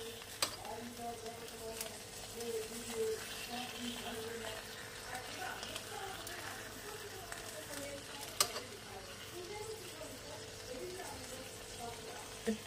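Small mourala fish cooking in a pan for a village-style Bengali curry are stirred and turned, giving a soft bubbling sizzle with occasional sharp clinks of a utensil, while a voice speaks quietly underneath.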